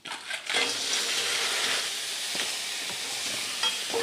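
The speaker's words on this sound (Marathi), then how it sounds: "आणि खेकडे असे मस्त तेलात असे कमीच गॅसवर मस्त असे मिक्स करून घ्यायचे" Crabs land in hot spiced oil for a Konkani crab curry, bursting into a loud sizzle that holds steady, broken by a few spoon scrapes and taps as they are stirred over low heat.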